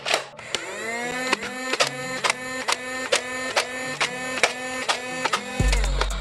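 A Big Power Electric Model 531 toy blaster fires darts in a rapid, steady string of about a dozen shots, each a sharp mechanical clack over a continuous electric motor whine, close and loud, ending with a low thump.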